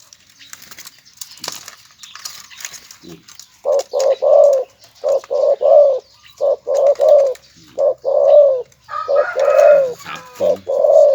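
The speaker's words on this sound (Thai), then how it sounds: "เสียงดีครับเนาะเสียงยังไงกูกูกูกูกูกู" A decoy dove, a lean, well-kept bird used for luring, coos loud and close in a steady run of repeated short phrases after a few quiet seconds, with faint background chirps.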